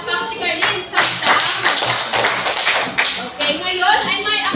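Children in a Filipino classroom clap together in a lively, sustained round of applause, loud and close, with a teacher's voice speaking over the clapping.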